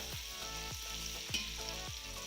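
Ingredients sautéed in hot oil for a Malappuram-style mango and date pickle: a loud, steady sizzle with occasional stirring scrapes, and no one speaking.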